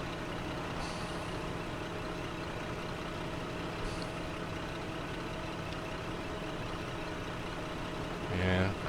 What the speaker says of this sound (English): There's another truck on its way up.